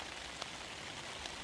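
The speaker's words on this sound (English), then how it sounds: "what makes it hard is the fact that it's raining 7 days in a row" Steady rain and drizzle in the Lofoten archipelago, Norway, fall in a dense, even hiss with scattered drop taps, close by and constant.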